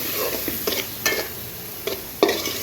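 Large shrimp stirred and frying with spiny gourd (kakrol) in a pan, a steady sizzle with several distinct scraping stirs of the spatula at irregular intervals, close and moderately loud, with no talk.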